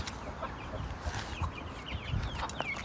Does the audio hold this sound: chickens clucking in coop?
yes